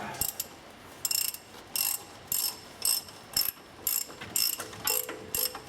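Ratchet wrench tightening a ball joint bolt on a Ford F350 4WD truck, giving about ten short, evenly spaced bursts of clicking with brief pauses between strokes, close and clear with no talk.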